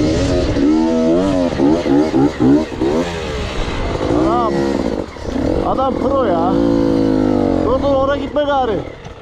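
Enduro motorcycles on a mountain trail rev and rise in pitch with repeated throttle blips, loud and close, while people talk over the engine noise.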